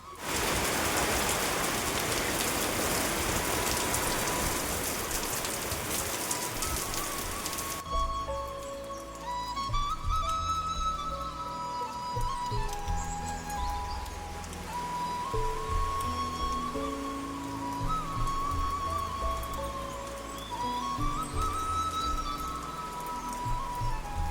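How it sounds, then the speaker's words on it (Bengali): Sudden rain falls outdoors as a dense, steady hiss for the first several seconds, then gives way to quieter, more varied sounds; no one speaks. "হঠাৎ করে শুরু হয়ে গেছে বৃষ্টি"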